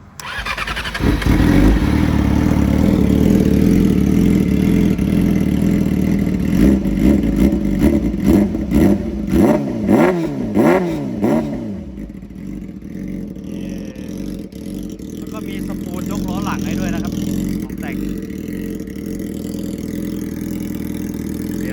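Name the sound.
Yamaha R6 motorcycle engine running at idle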